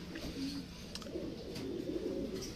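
Racing pigeons recovering from pox in a loft give soft, low rolling coos, fairly faint and continuous, with little else around them.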